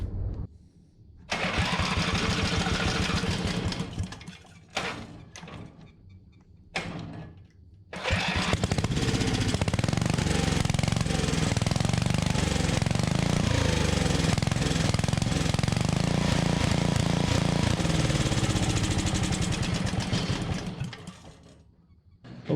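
Small engine after a fuel pump repair: after a few brief, sputtering start attempts it catches and runs steadily with a loud, buzzing drone for about twelve seconds before cutting out.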